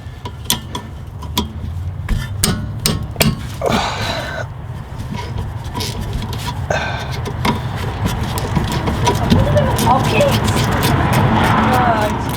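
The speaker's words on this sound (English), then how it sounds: "sorry about the traffic" Road traffic passes nearby during roadside brake-pad work on a motorcycle: a continuous low rumble of passing cars that swells toward the end, mixed with sharp tool clicks and taps and someone talking.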